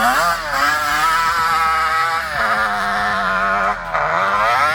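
A Yamaha Banshee 472 ATV engine revs hard and close, its raspy two-stroke note climbing and falling through several throttle sweeps, loud and continuous, with a brief dip near the end.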